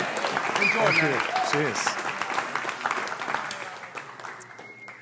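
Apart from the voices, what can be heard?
audience applause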